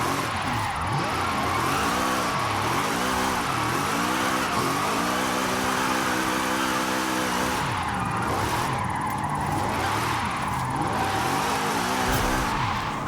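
Zenvo TSR-S 2019 hypercar in Forza Horizon 5, rear-wheel-drive drift tune, its engine revving and shifting through rising and falling pitches with tire squeal, loud and continuous throughout.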